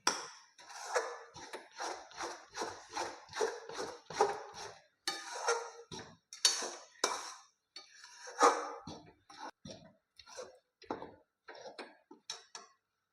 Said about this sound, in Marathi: आता आपण हे गॅस जोरात करून हलवून घेऊया.